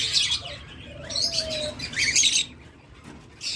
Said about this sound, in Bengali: এখানে আরেকটা চমৎকার লাভবার জোড়া রয়েছে